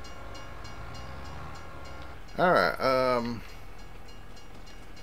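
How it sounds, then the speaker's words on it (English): A train passes in the video game Farming Simulator 22, its loud harmonic horn blast sounding twice in quick succession over steady background engine hum, with someone speaking briefly nearby. "Oh, here comes the train."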